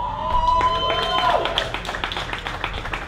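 Audience at a live evening dinner event at Knott's Berry Farm claps and applauds, a dense patter of hands fading out over a few seconds beneath a speaker's voice.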